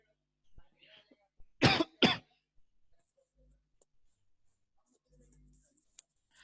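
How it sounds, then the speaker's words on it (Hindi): During a physics class, two sharp, loud coughs in quick succession, close by, followed by quiet shuffling and faint background noises. "खांसी मुझे असल में लगी हुई है"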